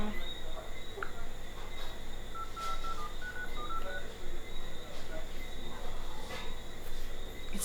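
Short, clear keypad tones from a phone being dialed ring out over a constant insect-like background hum, with faint voices murmuring now and then.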